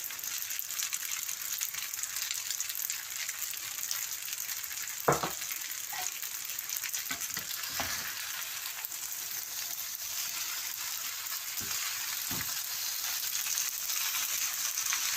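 Chow mein noodles with chicken and spring onions stir-fried in a pan, a steady broadband sizzle throughout with a few soft spatula knocks and scrapes, no talk.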